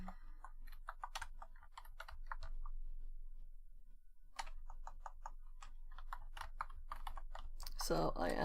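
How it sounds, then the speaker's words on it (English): Rapid keystrokes on a computer keyboard tap in bursts with a short pause in the middle, close and fairly quiet, during a cyber security lesson; a brief louder noise ends it. "So I am typing it in the notes"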